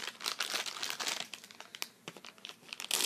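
A small plastic coffee bag is opened and handled up close, with loud, continuous crinkling and crackling of the plastic, sharper rustles and crunches breaking through.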